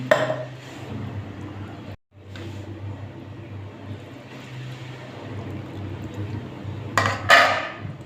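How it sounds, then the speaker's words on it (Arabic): A metal tray of stuffed cabbage rolls is set down and homemade chicken broth is poured over it: a steady rushing pour that halts briefly, then resumes, ending with a couple of bright metallic clinks near the close. "هحط الصينيه وهحط عليها ايه الشوربه دي من شوربه الفراخ اللي عندنا"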